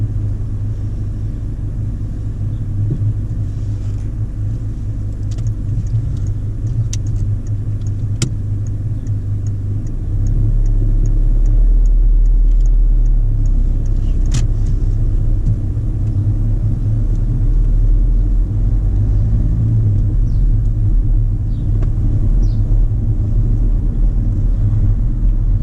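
Steady low rumble of a car engine on a driving test, pulling away from rest, with the engine noise rising and growing louder partway through and holding at that level with no speech.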